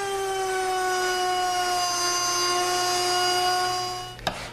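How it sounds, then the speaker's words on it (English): A hand router with a dovetail bit whines at a steady high pitch while cutting through a wood board, loud and continuous, then stops abruptly near the end with a single knock. "With the fence in the same position as for the waste cuts, I can route the through cut."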